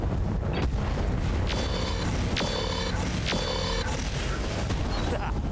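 Explosions and heavy weapon fire in the BattleTech video game, a dense rumbling barrage with several sharp bursts and booms over a constant loud background.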